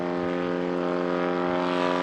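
A small propeller plane's engine drones steadily throughout, with a constant tonal hum and airy roar, close and even, from a private flight near Rocky Mountain STOL practice.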